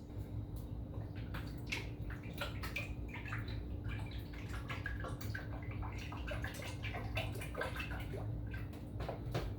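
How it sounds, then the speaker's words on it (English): Canola oil poured into a cooking pot to heat for deep-frying donuts, a steady liquid pour with soft gurgles and drips running close by for the whole stretch, with no talking. "I'm going to go ahead and put the canola oil in here so I can start getting nice and hot to deep fry these donuts"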